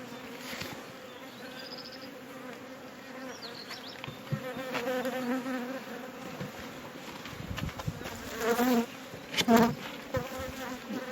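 Honey bees buzzing steadily at an open hive during colony transfer, a dense continuous drone that swells louder toward the end, with rustling handling noises.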